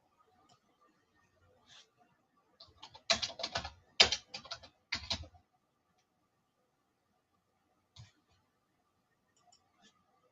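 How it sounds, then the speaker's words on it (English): Fingers typing on a computer keyboard, quiet clusters of key clicks in short bursts with pauses and a few isolated taps. "Seriously, fingers are typing."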